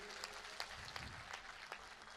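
An audience applauds steadily at a live stage event to honour the chief minister's birthday, a faint, distant wash of many hands clapping with no talk over it.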